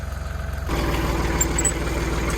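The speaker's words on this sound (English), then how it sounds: "That sure is a nice tractor right there." A vintage tractor engine idles steadily close by, with a deep, even throb that thickens and grows slightly louder after a moment. No voices are heard.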